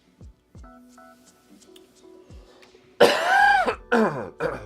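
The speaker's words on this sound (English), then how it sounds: "Sorry for the coughs today." A few short coughs and throat-clearing sounds, then a louder burst of rough, strained coughing near the end, up close and without speech.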